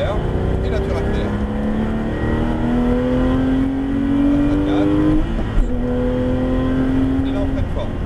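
A Porsche GT3 accelerates hard on track, its engine note rising steadily through the revs with a brief dip at a gear change, loud and close inside the cabin; a voice talks faintly underneath.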